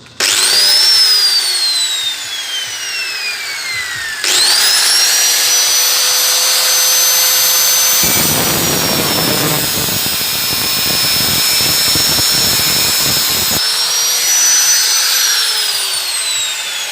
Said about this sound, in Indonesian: kita putus dulu ya pakai gerinda di sini